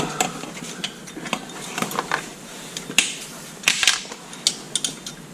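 A 9/16 wrench snugging up bolts while installing a Cat2 quick hitch, a run of quick metallic clicks and ratcheting taps in irregular bursts, close and crisp.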